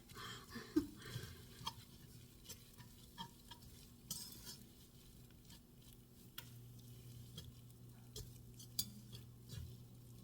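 A whisk and spatula stir lightly in a pan of beef stroganoff, giving soft scraping clicks and taps in an irregular rhythm over a quiet sizzle nearby.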